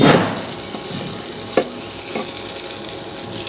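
Onion, green chilli and tomato fry in a pan with a steady, close sizzle for egg kheema, a scrape of stirring partway through and no talking.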